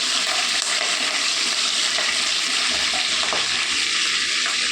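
Curry leaves frying alongside dried red chillies in hot oil give a dense, continuous crackling hiss, loud and close throughout with no pauses or voices.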